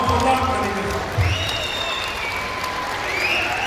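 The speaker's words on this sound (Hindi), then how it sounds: "एक बार खड़े होकर जोरदार ताली ऐसा बजाइए माननीय मुख्यमंत्री जी के लिए" Loud, sustained applause from an outdoor crowd at a National Sports Day event in Gandhi Park, Dehradun, a dense steady patter of clapping with faint voices mixed in, lasting throughout.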